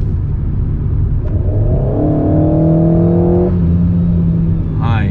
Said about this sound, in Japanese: 後ろから聞こえてくるエキゾースの音が気持ちよすぎて全く気にならない。